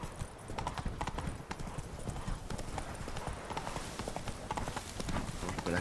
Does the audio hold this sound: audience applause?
no